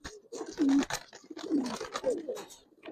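Giribaz racer pigeons, including large males, coo close by in a series of throaty, rolling calls that rise and fall in several overlapping bursts.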